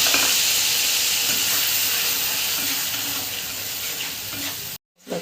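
Ginger, garlic, onion and green chilli paste fries loudly in hot oil in a pan, a steady close sizzle with stirring scrapes, breaking off abruptly near the end.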